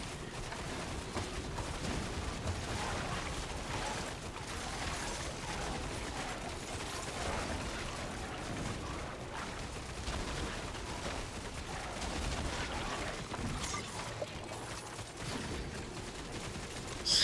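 Dense, continuous battle noise from an enemy cannon in the action game Hell Clock, with booming shots and explosions layered over a steady roar of combat effects for the whole stretch.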